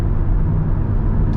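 Interior drone of an Audi TT RS with a 2.5-liter engine and manual gearbox cruising at 70 mph, a steady loud low rumble that holds evenly throughout without pauses.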